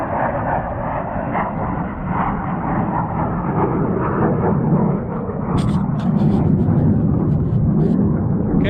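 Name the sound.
F-16 fighter jet flying over a bombing range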